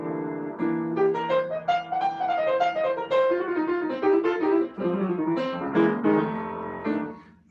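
Piano playing a simple blues in C, with a steady run of clear chords and melody notes for several seconds and no talk.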